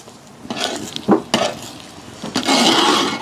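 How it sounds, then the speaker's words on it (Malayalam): Koova halwa cooked in a pot in a village kitchen, stirred with a utensil, giving a few distinct scraping clanks against the pot and then a steady thick sizzling stir, close and clear with no talk. "ആദ്യം ഇവിടെ ഇരുന്നിട്ട് ഇളക്കിക്കുക, അപ്പൊ ഇത്തിരി എളുപ്പമായിട്ട് ഇളക്കാൻ പറ്റും"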